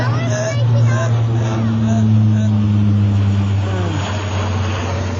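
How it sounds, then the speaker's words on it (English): An Air Force plane passes overhead outdoors with a steady, low humming engine drone that holds throughout, while people talk over it. "Oh, a plane."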